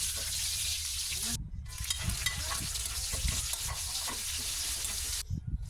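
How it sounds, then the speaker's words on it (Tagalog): Garlic, onion and ginger sautéing in hot oil produce a lively, close sizzle with stirring scrapes and brief gaps, steady and loud throughout. "Nang uminit na yung mantika, agad ko nang nilagay yung bawang, sibuyas, at syempre yung luya."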